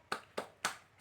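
A teacher claps out an Indonesian classroom clap chant in a primary school lesson: three sharp, evenly spaced claps close by, with a fourth starting as the clip ends, no voices.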